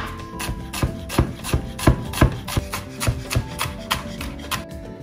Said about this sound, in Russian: Теперь возьмем одну целую луковицу, нарежем мелким кубиком и будем ее томить.